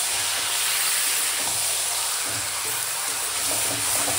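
Chicken marinated in sour curd, ginger and garlic hits hot oil in a pan, giving a loud, steady sizzling hiss that continues without break, close up, with no talking.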